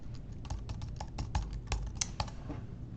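Quick, crisp taps on a computer keyboard sound close and fairly quiet in an irregular typing rhythm, with about a dozen distinct clicks across a few seconds and no voices.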